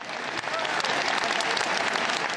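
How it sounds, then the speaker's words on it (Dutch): A large crowd applauds at length in farewell to a city mayor, producing a dense, even wash of clapping that holds steady throughout. "Zij zeggen vaarwel met een langdurig applaus."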